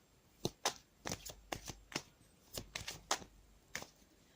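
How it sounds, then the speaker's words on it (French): Tarot cards being shuffled by hand: a run of crisp, papery riffles and slaps in uneven bursts, close and fairly quiet, with no voice over them. "je vais demander une carte concernant les énergies générales pour aujourd'hui. Donc c'est parti, je mélange les cartes"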